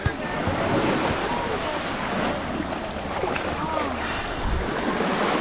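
Ocean surf washes onto a beach at Tropea in Calabria, a broad continuous roar mixed with gusty wind buffeting the microphone.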